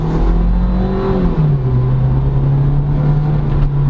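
A 2022 Kaicene CX70 seven-seater SUV pulls hard in sport mode, its engine droning loud and steady from inside the cabin, the pitch dipping once at a gear change then holding a strong even hum.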